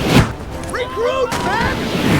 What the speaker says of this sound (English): Noisy things, cannons!